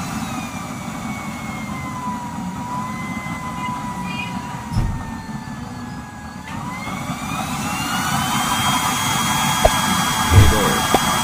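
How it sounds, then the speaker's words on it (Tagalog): A used-oil stove's new nozzle burner roaring during a fire test, a loud steady close rumbling roar with a whining tone that slides in pitch, and a few knocks and clicks near the end. "Ito yung ating tinesting na nozzle burner sa isang unit natin."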